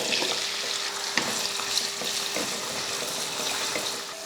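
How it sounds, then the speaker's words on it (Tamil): Carrot and potato sauté in oil in a kadai, a continuous crackling sizzle with light stirring taps and no talk. "இதில் ஒரு கேரட்டு ஒரு உருளைக்கிழங்கு எடுத்திருக்கேன் இப்போ எண்ணெயில் போட்டு வதக்கிக்கலாம்"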